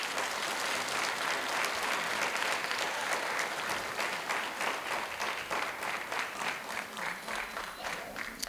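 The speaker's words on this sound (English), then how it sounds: "you need to give your parents a round of applause for everything they do for you." An audience at a county band concert applauds steadily for several seconds, a dense and moderately loud wash of clapping that softens slightly toward the end.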